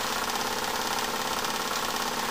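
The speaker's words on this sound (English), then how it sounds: "Jensen made a whole line of little engines like this." A Jensen toy model steam engine runs under power in a steady, continuous whir with a fine mechanical chatter, close and even throughout without any pauses.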